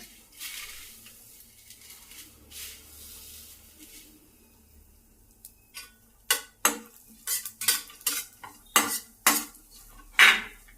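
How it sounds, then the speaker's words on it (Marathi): Fine vermicelli is roasted in ghee in a pan, with a soft sizzle at first, then a run of quick metallic scrapes and clinks from a spoon against the pan, close and getting busier toward the end, no voices. "खूप बारीक शेवाय याच्यामध्येच परतून घेऊ तुपावर"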